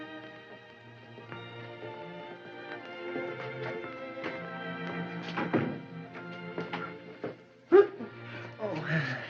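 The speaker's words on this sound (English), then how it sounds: "you've got puppies, Mr. Wade." A litter of seven puppies whimpering and yipping in an old Blondie comedy film, faint, thin cries mixed under orchestral music and a voice speaking, with one sharp thump near the end.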